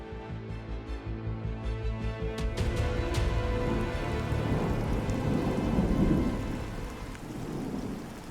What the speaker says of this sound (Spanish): empezó a caer una lluvia torrencial